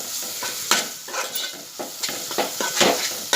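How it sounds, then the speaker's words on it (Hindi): Turmeric and spices fry with onion in a pan over medium heat, a steady sizzle broken by repeated scraping stirs of a spoon, close and alone with no voices. "और थोड़ा प्याज में भूनूंगी मीडियम आंच पर।"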